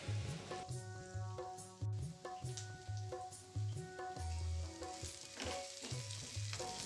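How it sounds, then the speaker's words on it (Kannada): Chopped onions fry in oil in a pan for bottle gourd curry, a faint steady sizzle under repeated clinks and scrapes of stirring, close by with no talk. "ಕೆಂಪಗಾಗುವಷ್ಟು ಹೊತ್ತವರೆಗೂ ನಾನು ಫ್ರೈ ಮಾಡ್ಕೊಳ್ತೀನಿ."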